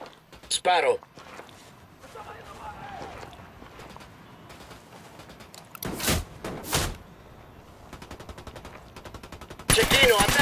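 Gunfire in the Ghost Recon Wildlands video game comes as scattered sharp shots and short bursts, including a loud burst near the end, with people talking at times between the shots.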